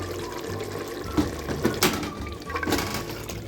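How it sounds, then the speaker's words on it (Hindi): Cooking oil is poured into a pot of cooked-down meat for gobhi gosht, giving a soft liquid splash with a few small bursts and sizzles over a steady kitchen background. "अब इसमें मैं ऑयल शामिल कर दूँगी।"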